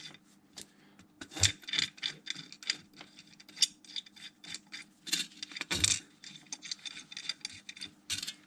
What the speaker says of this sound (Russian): устанавливаем данную крышку и закручиваем новыми болтами.